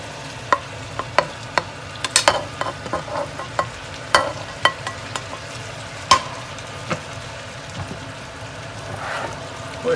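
Bhindi gosht with chopped tomatoes, coriander, mint and red chillies frying in a pan, a steady low sizzle punctuated by sharp clinks and scrapes of a spoon stirring at irregular intervals, close and alone without talking.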